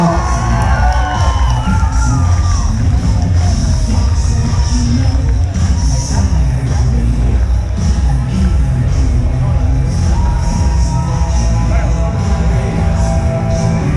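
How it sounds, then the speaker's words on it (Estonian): At the Tartu Superenduro 2022 awards ceremony, an outdoor crowd cheers and whoops continuously, a loud, steady roar of voices with some clapping and shouting throughout. "Veel kord üks vägev aplaus kolmele paremale Rene Erbach, Lärrik ja Erki Palusoo."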